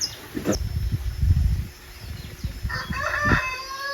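A rooster crows on a farm where the birds roam free. The call rises clearly over a loud, low background rumble, with bursts of harmonic crowing near the end.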